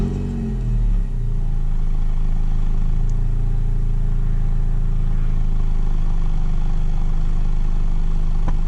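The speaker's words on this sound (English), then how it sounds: "this is a stock exhaust. It sounds all right, nothing too special." A manual car with its stock exhaust idles close by, a steady, even engine drone settling after a brief blip at the start and holding alone without speech.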